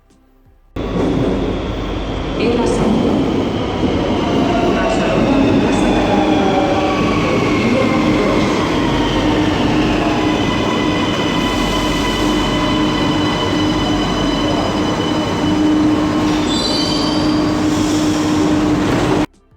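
A Barcelona metro train rolls along its rails toward Plaça de Catalunya with a steady low rumble, rising wheel squeal and faint rhythmic clatter, loud and continuous from start to finish.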